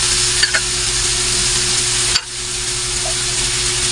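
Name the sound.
milkfish (bangus) being fried in a pan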